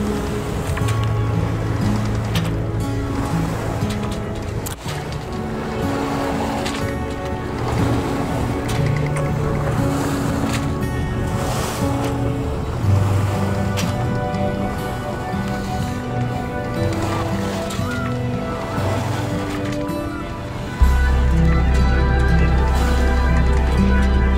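A yacht heading back to its mooring on open water, a steady loud droning hum with rushing wind and water that swells near the end, no one talking.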